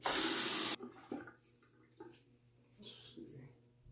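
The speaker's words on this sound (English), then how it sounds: "now I'll rinse the razor and go over my neck again." A razor is rinsed under a running tap, heard as a loud rush of water that stops abruptly, followed by quiet knocks and scattered faint rustles, all close by.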